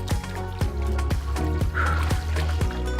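Water sloshes and splashes in a pool during a dumbbell workout, with rhythmic surging waves roughly every half second over a steady watery wash.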